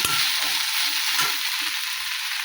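Okra stir-fry sizzling steadily in a hot pan as it is stirred, a continuous bright frying hiss with soft scraping stirs, close and alone without talk.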